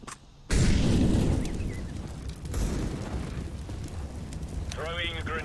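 A grenade goes off in the video game CS:GO with a sudden loud blast and a long rumbling tail, and a voice speaks briefly near the end.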